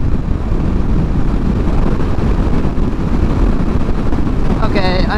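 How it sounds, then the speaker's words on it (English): Strong crosswind roars across a Honda Rebel 500 rider on a highway, a loud, constant buffeting rush that fills the whole stretch. "It's so windy."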